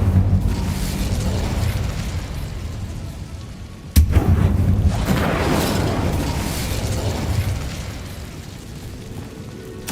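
Incendio fire spell in Hogwarts Legacy: a sudden sharp blast at mid-clip erupts into a sustained, roaring rush of flame and rumbling combat noise that slowly fades, with another pop at the very end.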